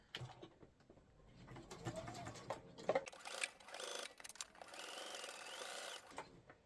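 A sewing machine stitches a leftover bag webbing strap in short bursts of rapid mechanical whirring, up close and fairly quiet, with brief pauses between runs.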